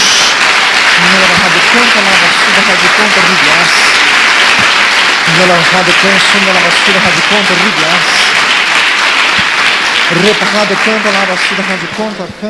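Church congregation applauding at a worship service, broad steady clapping with sung or spoken voices layered throughout, loud and sustained before fading at the end.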